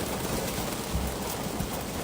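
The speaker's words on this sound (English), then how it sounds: "Thought she was in the car wash for a second, it's just raining." Rain falling in a steady, even hiss with soft patters, close by and constant, with no voices.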